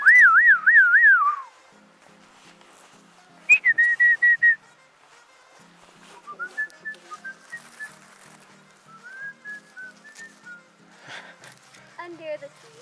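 Someone whistles outdoors on a family blueberry-picking outing, producing short bursts of warbling and sliding notes, some trilled, separated by pauses and quieter sounds while people talk nearby.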